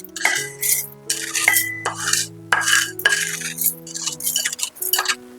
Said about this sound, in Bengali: একটা মিক্সিং জারের মধ্যে আমি মশলাটাকে ঢেলে নিচ্ছি